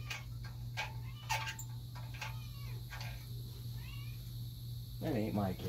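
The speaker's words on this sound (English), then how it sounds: "That ain't my cat." A cat meows a few times, near and fairly clear, over the steady hum of a workshop where a Coleman generator is being torn down, with a louder, drawn-out meow near the end.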